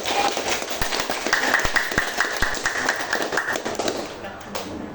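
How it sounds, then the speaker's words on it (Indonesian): A class of grade 7 students clapping hands together in a classroom, a scattered burst of sharp claps and taps that fades near the end, with voices murmuring underneath. "kelas 7G, tepuk tangan"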